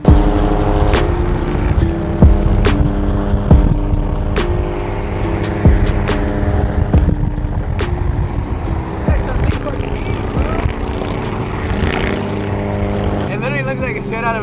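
Car engine idling and revving at a Japanese import car meet, a loud continuous rumble with sharp mechanical clicks and pops up close, under people's talk, ending with a brief higher whine.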